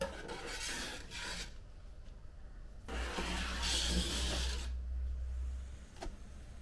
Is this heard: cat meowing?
no